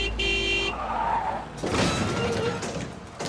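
A parents' station wagon taken for a joyride, its engine and tires rushing past in a loud, dense blur with screeching, music-like tones and scene noise layered around it.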